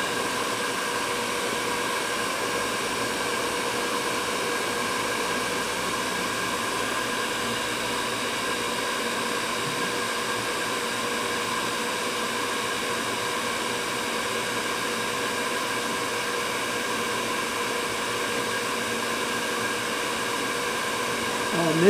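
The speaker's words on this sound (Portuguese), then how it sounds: "Tô fazendo com um secador bem." A hair dryer aimed at a screen with black stains blows continuously with a steady whirring roar, close and unchanging for the whole stretch.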